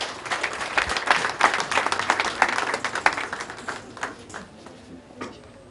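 Audience applause at a political party school event, a burst of clapping from a seated crowd that peaks early and fades out over several seconds.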